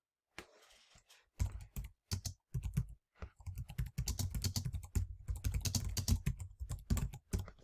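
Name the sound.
typing on a computer keyboard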